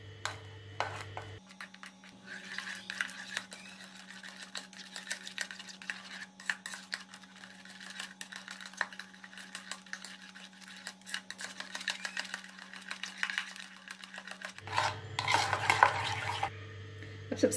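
Russian salad being mixed with powdered sugar: continuous soft scraping and stirring of a spoon against a bowl, with light clinks, over a low steady hum.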